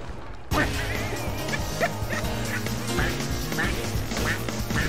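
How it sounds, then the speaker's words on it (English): Duck quacking in a video game, repeated loud quacks in quick succession over a busy game soundtrack, with people talking over it. "Like duck quacks."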